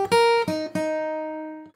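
Fingerstyle guitar melody from a song: a few bright plucked notes and a chord in quick succession, ringing out close and clean before fading, with no voice.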